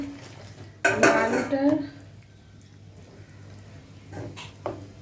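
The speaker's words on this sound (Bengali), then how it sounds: "আমি ঢাকনাটা খুলেছি" Metal pot lid lifted off a pan of Bengali fish curry with potatoes: a loud clattering clank near the start, then softer clinks and a scrape a few seconds later, over a low steady hum.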